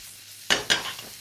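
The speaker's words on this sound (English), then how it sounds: "coat everything in the oil. Give it a toss." Mushrooms and bacon tossed in hot oil in a pan, heard as two quick scraping, sizzling bursts followed by a softer settling rattle at close range.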